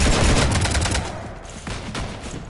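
Rapid gunfire strafing a ship in the video game Mass Effect 3, heard as a dense burst of overlapping shots that thins out and then returns briefly.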